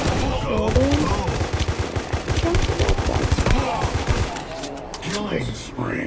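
Rapid bursts of gunfire from the Mamba weapon in a video game, repeated shots in quick rhythmic strings, heard close and loud alongside talk.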